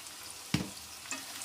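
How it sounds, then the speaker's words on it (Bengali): Turmeric is added to hot oil, giving a soft sizzle with a sharp spatter and a couple of brief stirring scrapes against a quiet background. "অল্প একটু হলুদ দিয়ে দিলাম তেলের মধ্যে।"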